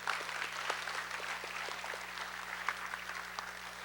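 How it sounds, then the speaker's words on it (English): Audience at a middle school spring choir concert applauding school staff, a soft, steady patter of scattered clapping heard from a distance over a low hum. "Give them a round of applause."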